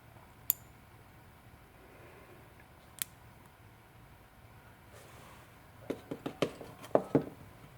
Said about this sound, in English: I'm gonna trim off so that I have a little end there, a little wire end